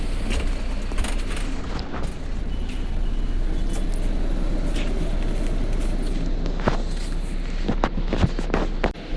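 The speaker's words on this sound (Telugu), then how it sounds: "గైస్ మా లగ్జరీ యోలో బస్ అయితే వచ్చేసింది" A luxury YOLO bus arrives and passengers board on a busy road, with a constant loud engine rumble and traffic noise throughout, punctuated by brief clunks and knocks, with no one speaking.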